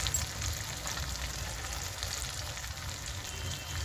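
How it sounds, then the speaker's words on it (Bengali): Spices and oil sautéing in a pan for a masoor dal and egg curry, with turmeric, chilli and coriander powder added; a steady, close sizzle of frying runs throughout with no talking. "আরও আমি দু থেকে তিন মিনিট ভালো করে কষিয়ে নেব"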